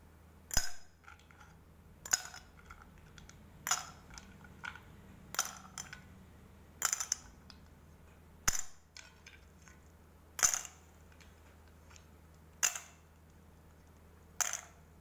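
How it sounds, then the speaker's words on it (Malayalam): Ice cubes drop one at a time into a glass, giving about ten faint, sharp clinks spaced a second or two apart in a quiet room. "ഈ ഐസ് ക്യൂബുകൾ ഈ ഗ്ലാസിൻ്റെ ഉള്ളിലേക്ക് ഇടാൻ പോവുകയാണ്."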